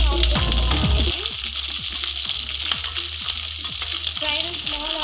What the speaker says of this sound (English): Fry the small onions until it turns to golden brown in color.